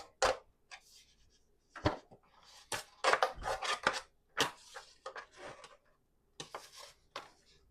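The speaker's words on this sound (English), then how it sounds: "Get this pot out of here." A cooking pot that held rice and peas is shifted around a kitchen, giving irregular sharp metallic clanks and knocks, close and fairly loud, separated by short quiet gaps.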